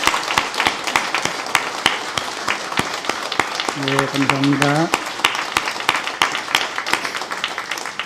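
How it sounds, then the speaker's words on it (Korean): A church congregation at a Sunday worship service applauds steadily, many hands clapping in a dense, continuous patter that holds throughout, with a brief spoken thank-you heard over the clapping. "박수하겠습니다"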